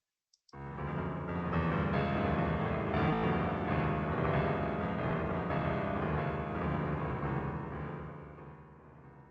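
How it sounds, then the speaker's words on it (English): Earthquake seismic data rendered as music on a digital piano: after a brief click, a dense, continuous wash of many overlapping piano notes swells in and holds loud before easing slightly at the end. "this is the sound of this earthquake that is played using a digital piano"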